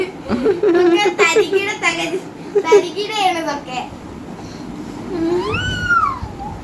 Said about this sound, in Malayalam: ഇവിടെ ഒരു പൂച്ച കുഞ്ഞുണ്ട് കേട്ടോ